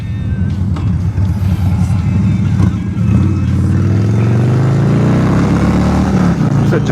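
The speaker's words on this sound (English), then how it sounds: "Harley Davidson Dyna, Street Bob edition." Harley-Davidson Dyna Street Bob motorcycle riding on a fine day, its engine a steady loud low rumble that climbs in pitch as the bike accelerates, with continuous road and wind roar throughout.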